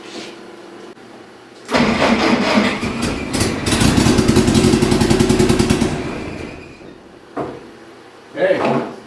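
A Willys Overland pickup engine, dormant for 46 years, cranks and catches on a splash of fuel, sputtering through a rough burst of running for a few seconds before dying, with clunks and brief speech around it.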